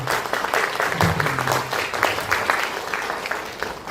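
Audience at a policy forum on elder abuse rules for long-term care facilities applauds sign language interpreters with dense, continuous clapping, moderately loud, and a brief voice underneath.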